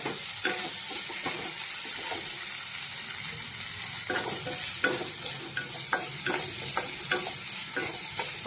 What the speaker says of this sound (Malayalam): എന്നിട്ട് നന്നായിട്ടൊന്ന് ഇളക്കി കൊടുക്കണം.